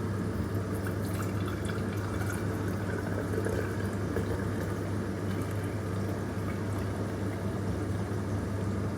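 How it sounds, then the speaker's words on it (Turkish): Chicken broth is strained, pouring and trickling steadily for several seconds, a soft continuous splashing over a low background hum. "Tavuk suyunu süzelim."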